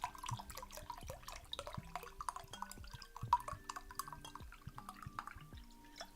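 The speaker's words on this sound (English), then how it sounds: "I think you all heard how I put in water to my glass" Water pours into a glass, with a light trickle and scattered drips running throughout, soft and close.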